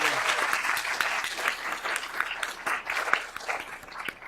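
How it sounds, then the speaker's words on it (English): An audience at a clean energy conference claps for the hosts of a live podcast taping: a moderately loud, busy wash of many hands with individual claps standing out, continuing steadily with no talking. "If everyone can welcome them with a round of applause."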